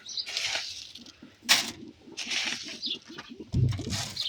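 Caged pigeons shuffle and scratch with soft patter, a couple of brief wing flutters and low cooing murmurs close by, with no talking.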